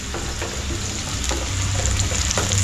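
Cashews frying with onion in a pan, a loud close steady sizzle with occasional light scraping and stirring knocks.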